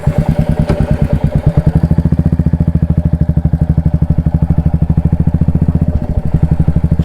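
Motorcycle with a modified silencer exhaust idling and revving close by, a loud, rapid, even thumping pulse running throughout with no talk.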